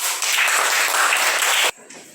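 Children in a spoken English class clap together in a brief, dense burst of applause lasting under two seconds, then stop abruptly, leaving a faint trailing sound.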